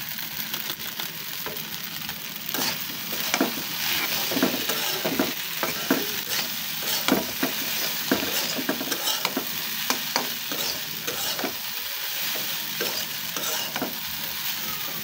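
Spices fry in a pan for a pasta dish while a spoon stirs them. Steady close sizzling runs throughout, broken by frequent scraping clacks from the stirring.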